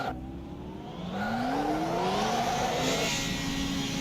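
A Radical SR3 race car in the rFactor 2 racing sim revs up at the Nürburgring 24 hours, its engine note climbing steadily through acceleration, close and loud, with a faint tire squeal.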